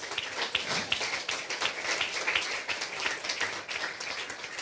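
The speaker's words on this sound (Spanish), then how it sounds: "Dale un aplauso al Señor." A church congregation claps for several seconds during a sermon, dense steady applause with sharp individual claps throughout, loud and close.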